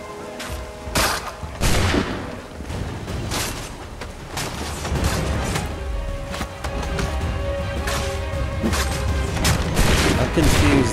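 Gunfire in Assassin's Creed III Remastered while freeing natives, a dense volley of shots and booms that cracks repeatedly over a steady rumbling background, loud and continuous throughout.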